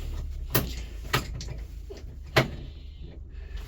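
The cab door of a new Scout 904 tractor opens and shuts, giving three sharp latch clicks and thuds spaced about a second apart, close and fairly loud against a low idle hum.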